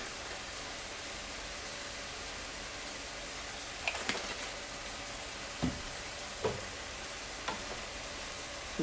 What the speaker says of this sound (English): We're going to get this all nice and sauteed up.